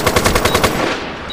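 A burst of rapid automatic gunfire in the online shooter MAG, about seven evenly spaced loud shots firing in quick rhythm, then fading into a ringing tail, with no talking.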